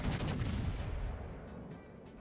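Battleship main-gun salvo from the Tier VII Commonwealth premium HMCS Yukon in World of Warships, a heavy booming volley that opens loud and rolls off into a fading rumble, with no talk.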